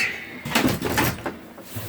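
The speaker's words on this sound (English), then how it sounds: "Close the door." The door of an ice fishing shack slides and bumps shut close by, a short series of knocks and scrapes with a rattling clunk.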